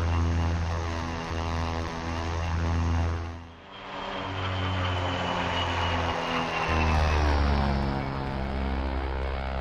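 The twin turboprop engines of an OV-10A Bronco aircraft in the flight simulator DCS give a steady, throbbing drone with a pulsing beat. The sound dips briefly, then returns loud and continuous, heard close and with no talk.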